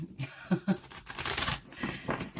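Tarot cards being shuffled close by, giving soft papery riffles and taps in short bursts followed by a longer rustling run, with no talking.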